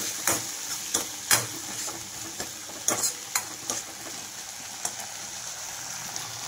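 A spoon stirs a veg Manchurian mixture of cabbage and masala in a hot pan, giving irregular scraping taps over a soft, constant sizzle.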